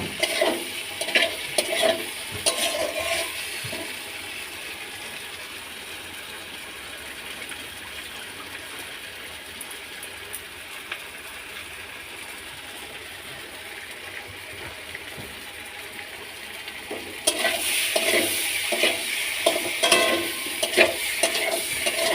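Fried eggs being stirred into masala in a pan, with a steady low sizzle throughout and bursts of scraping, clattering stirring at the start and again near the end. No talking.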